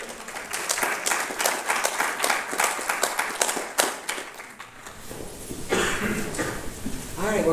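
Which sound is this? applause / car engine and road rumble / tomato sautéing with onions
applause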